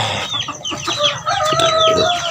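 Chickens cluck and a rooster crows on a farm, with overlapping birdcalls that rise and fall, close and fairly loud, with no talking.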